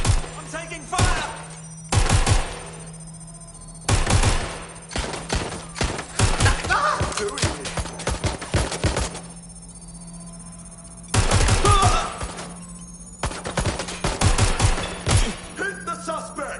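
Gunfire in the game Watch Dogs Legion erupts in loud, close bursts of rapid automatic shots, dense volleys broken by short gaps, with occasional shouted voices between them.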